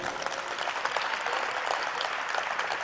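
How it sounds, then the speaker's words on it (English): An audience applauds at a grand reveal ceremony for a dome, a steady patter of many hands clapping, moderately distant and even throughout. "I need a hand of applause."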